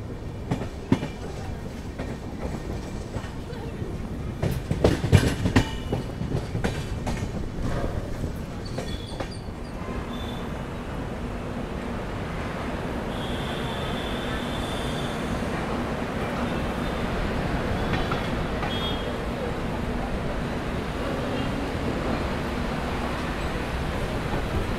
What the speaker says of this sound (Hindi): और भाई ट्रेन अपनी चढ़ेगी